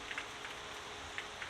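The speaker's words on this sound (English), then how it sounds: "as I wait out the rain" Rain falls steadily in Florida around a boat, making a soft, even hiss with a few scattered louder drips landing close by, low in level and with no voices.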